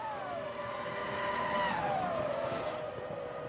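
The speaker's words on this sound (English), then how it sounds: "It's Montoya. He's crashed in the final corner." A McLaren Formula 1 car crashing in the final corner at the 2005 Japanese Grand Prix, a distant rising and falling engine whine over a steady broadcast roar, with no distinct impact standing out.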